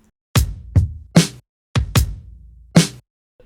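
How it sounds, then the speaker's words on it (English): A punchy drum loop of kicks and snares passes through the Sound Toys Little Radiator preamp on its Touch of Tube preset, six crisp hits in two short groups with light harmonic warmth, close and dry with no voices. "I'm following the Firechild up with Little Radiator, which is a preamp from Sound Toys"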